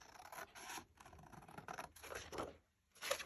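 Scissors cutting out a large paper heart tag, a series of quiet rasping snips and rubs in short bursts with brief pauses between, close by and faint.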